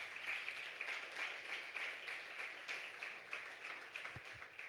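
A church congregation gives a faint, distant round of applause, a dense steady patter of many hands clapping that continues for several seconds without talking.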